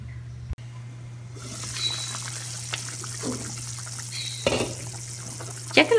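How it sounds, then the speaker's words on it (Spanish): Vegetable soup boils in a covered pot, with soft bubbling and occasional small pops over a steady low electrical hum from the stove area. "Voy a tapar y voy a dejar hervir."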